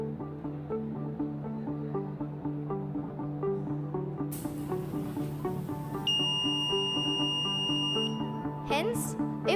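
A jamming detection system sets off its electronic buzzer, a piercing steady high-pitched tone that starts partway through and sounds over a voice and a droning tonal background.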